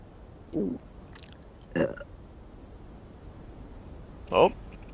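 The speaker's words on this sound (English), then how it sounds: "looks like she burped just like we did when we first met them" A character in the video game The Walking Dead: The Final Season burps, three separate short belch-like bursts spaced a second or two apart, fairly loud against a quiet background.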